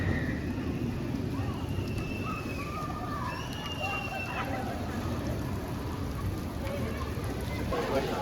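Steady heavy rain pours over the Knoebels amusement park near the Impulse roller coaster, a dense constant hiss lasting throughout with faint background voices.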